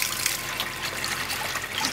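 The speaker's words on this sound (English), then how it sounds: "Taking the leaves off the salt tree, soaking the leaves in the water." Water trickles steadily as leaves from a salt tree soak in it, a soft continuous wash of liquid noise close by with no voices.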